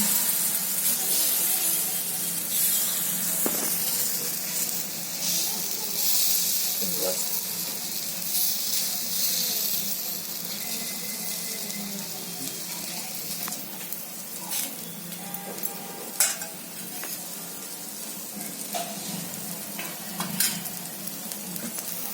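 A gram flour pancake (dhirde) fries in a little oil on an iron griddle, a continuous close sizzle punctuated by scraping clicks and taps, with a person talking over it.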